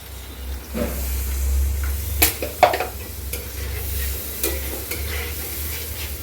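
Onions and spices being stirred and fried in a pan for a Bengali dish of goat brain and chicken bhuna, with a steady sizzle under scraping stirs and a few sharp clinks of the utensil against the pan.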